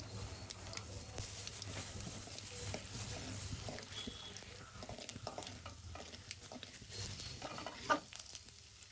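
Chana dal and urad dal frying in hot oil with popped mustard seeds and cumin for drumstick leaf poriyal, a steady close sizzle with light stirring scrapes throughout, no voices.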